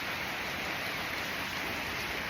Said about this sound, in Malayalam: ഒട്ടുക്കമറ്റ മഴയാണ് ഗായ്സ്.